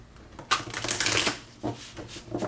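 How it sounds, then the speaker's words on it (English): Tarot cards being shuffled by hand give close, crisp riffling bursts: one long flurry followed by two shorter ones, with quiet gaps between. "a couple more of these shuffles"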